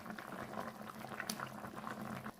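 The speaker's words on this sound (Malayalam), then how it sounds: "ഇത് കുറച്ച് നേരമായി തിളയ്ക്കുമ്പോൾ നമുക്ക് ഏതായാലും ഒന്ന് ഇറക്കി വെച്ചിട്ട് കടുക് വറുത്തിടാം" Idichakka theeyal, a tender jackfruit curry, simmering in a clay pot gives a steady, soft bubbling and popping, close but quiet and unbroken throughout.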